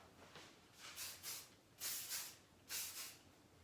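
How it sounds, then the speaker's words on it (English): Hairspray from a can misted onto hair during curling, in a series of short hissing bursts, some in quick pairs, fairly quiet and close with no talking. "So what I'll do is I'll just go in, spray the hair,"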